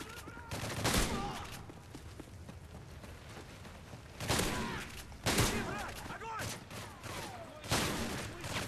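Shotgun blasts in the video game Modern Warfare 3 Survival mode, several loud booming shots spaced irregularly among other game noise and crashing effects, with a voice talking in between.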